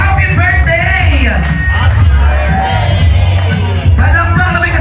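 Guests at an 18th birthday party cheer, whoop and clap in a loud, dense burst of crowd noise, mixed with babble and a voice speaking over the din.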